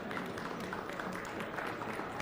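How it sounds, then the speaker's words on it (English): Audience at a youth meat goat show clapping continuously for a short stretch, a dense, even patter of many hands heard from amid the crowd. "Let's give these three a round of applause."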